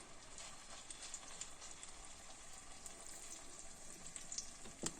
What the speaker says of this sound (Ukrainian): Зараз я так, сковорода в мене гаряча. І я так буду трошечки розплескувати їх